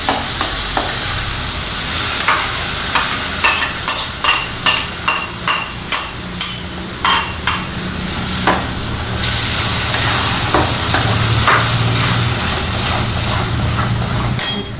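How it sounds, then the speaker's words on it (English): Ground garlic and coconut paste fries with softened tomatoes in a pan, a loud steady sizzle under rhythmic scraping and tapping of a spoon against the metal. "At this stage we'll add the ground garlic and coconut paste."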